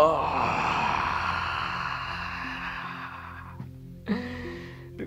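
A long, voiced yawn during a pranayama breathing exercise, opening loud with a falling drawn-out tone and fading, over soft steady background tones, with a brief breathy sound near the end.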